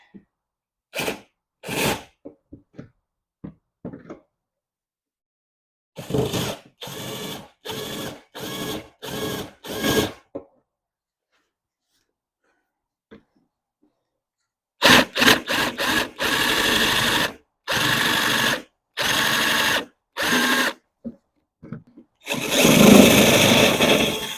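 A power drill with a 1/4 inch bit runs in short repeated bursts, whining and grinding through the metal trunk panel of a BMW Z3, with pauses between; later bursts are longer and louder.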